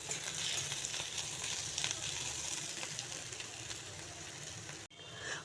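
Radish frying in a pan gives a continuous close sizzle with a loud, even crackle that breaks off for an instant near the end.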